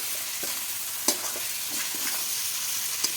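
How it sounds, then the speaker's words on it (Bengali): Fried potatoes being stirred into a spice masala in a pan, soft steady sizzling with several scraping stirs of a utensil against the pan. "ভেজে রাখা আলুগুলো দিয়ে দেব ভালো করে মিশিয়ে নেব মশলার সঙ্গে আলুগুলোকে"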